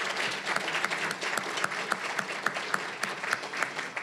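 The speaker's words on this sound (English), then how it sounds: "Could you give him one more round of applause," An audience claps steadily at a 25-year anniversary celebration for applied technology: a dense, sustained round of applause with no talking over it.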